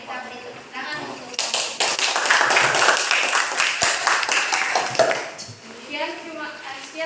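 A classroom applauds after a group presentation on women's skirt designs, with a burst of clapping hands rising after a second and continuing for several seconds. Voices can be heard speaking before and after the clapping.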